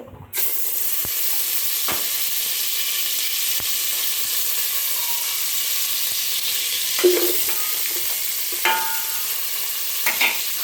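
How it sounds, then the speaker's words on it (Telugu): Ginger garlic paste sizzles in hot oil for a home-style mandi biryani: a loud, steady frying hiss runs throughout, broken by a few sharp clinks and scrapes of stirring near the end. "ఆయిల్ హీట్ ఎక్కగానే కాస్త అల్లం వెల్లుల్లి పేస్ట్,"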